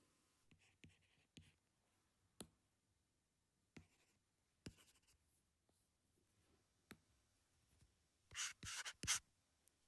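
Pen writing by hand on paper while working an A-level differentiation answer, giving scattered short scratches and taps with pauses between, then a denser burst of quick strokes near the end, close and quiet with no talk.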